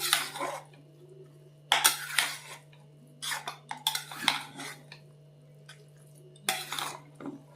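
A spoon or ladle stirs tempered spices into daliya in a metal pot, producing several bursts of scraping and clinking against the pot with quiet pauses between them; a steady low hum continues throughout.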